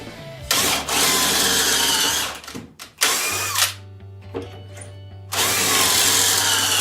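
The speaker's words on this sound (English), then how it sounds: "Line it up, hold it down, lock it, and drill your holes." A power drill bores holes in wood while a rustic barstool is being built. Loud, close bursts of high-pitched whirring drilling start and stop several times, separated by short pauses and a clunk.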